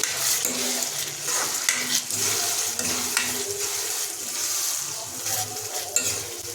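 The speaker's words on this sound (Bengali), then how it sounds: "এটাকে আমরা ঘন ঘন হাতা দিয়ে নাড়িয়ে নিতে হবে" A paste of cashew, poppy seed and melon seed sizzles in soybean masala as a ladle stirs it, with close scraping strokes and clinks against the pan over a continuous fry, no voices.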